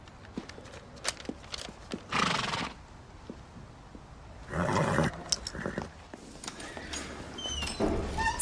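A horse whinnies loudly twice, long shrill neighs separated by snorts and scattered hoof knocks, with a shorter call near the end.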